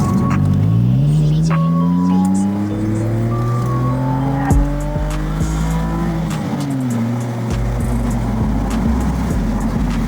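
A BMW E90 sedan on newly fitted coilovers is driven hard, its engine climbing through several gear changes in a loud, close cabin drone, with faint tire noise and no speech.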